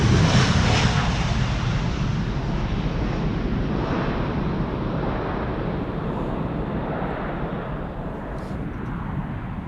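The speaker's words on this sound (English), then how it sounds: "here's the DHL A300-600 on its way to Madrid" A DHL Airbus A300-600 cargo jet departs Amsterdam Schiphol for Madrid, the loud engine roar strongest at first and slowly fading as it moves away, with some wind buffeting the microphone.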